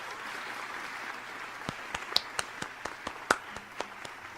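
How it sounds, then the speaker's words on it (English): A crowd applauds at a debate in the game Grand Old Academy, scattered distinct claps building over a soft murmuring background, moderately near, with no talk over it. "The crowd went wild, applauding and cheering."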